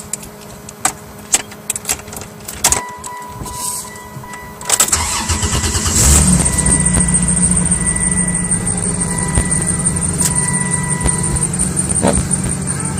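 A 1995 Chrysler Intrepid with the 3.3-liter engine cold-starts: a few clicks and a brief crank, then the engine catches around five seconds in and settles into a steady, loud idle that runs to the end.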